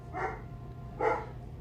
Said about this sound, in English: I apologize for my Oliver barking,